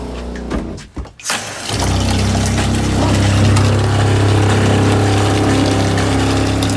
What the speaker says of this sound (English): let's get the pump on actually